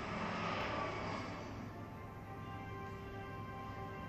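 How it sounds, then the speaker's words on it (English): A helicopter flying in the video game Resident Evil 6, a steady droning engine and rotor rumble that swells briefly at the start and then holds level and fairly close for the whole stretch. "Helicopter again."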